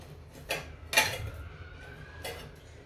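Decorative plates being picked up and set down in a home kitchen, a few light clinks and taps spread over a couple of seconds, close and fairly soft, with no talk.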